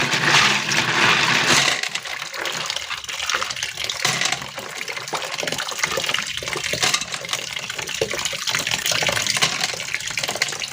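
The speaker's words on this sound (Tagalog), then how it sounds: "huhugasan ko siya ng tatlong bisis para sigurado na malinis itong uh, kuhol" Snails (kuhol) are washed in a basin of water, a loud continuous splashing and sloshing of water and shells being rubbed together, close up and without any talking.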